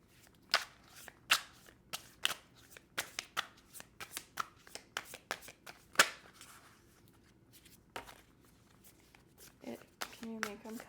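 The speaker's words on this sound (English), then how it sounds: "I'm going to shuffle one more time." Tarot cards shuffled by hand in a run of crisp riffling bursts and soft slaps, close and fairly quiet, with a brief murmur of voice near the end.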